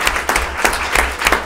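At a board of education meeting, an audience gives a round of applause for a departing colleague, a steady, fairly loud burst of many clapping hands with no speech over it.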